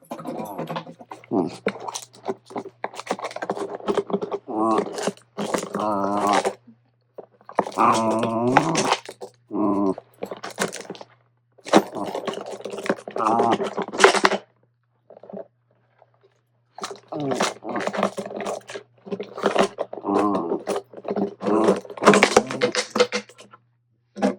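Puppies wrestle over a stolen plastic Gatorade bottle, with bursts of crinkling, crunching plastic and chewing, small growls and scuffles close by, broken by short pauses.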